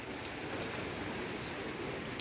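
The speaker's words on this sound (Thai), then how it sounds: "มาถ่ายภาพบรรยากาศ ในฝนตกให้พี่น้องเบิ่งพี่น้องชมเนาะ" Steady first rain of the year falling, a dense continuous hiss of drops that holds even and close throughout, with no voices.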